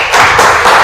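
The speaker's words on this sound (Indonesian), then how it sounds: "Baik, tepuk tangan untuk Nazira." A classroom of students applauds, a short burst of loud, close, rapid clapping lasting under a second.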